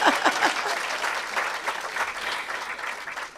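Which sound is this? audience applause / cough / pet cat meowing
audience applause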